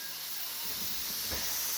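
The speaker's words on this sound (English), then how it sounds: "when it gets to that steady stream of steam" Steady steam hissing from a pressure canner venting while lima beans are processed, a continuous, fairly quiet rushing hiss with no talk.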